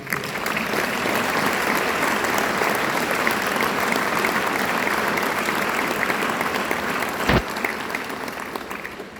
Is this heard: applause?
yes